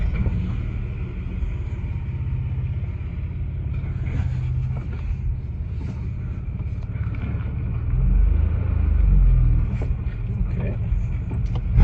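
A car with a single exhaust feeding dual mufflers rumbles low and fairly subdued while driving, with wind buffeting the microphone and a brief spoken word over the engine.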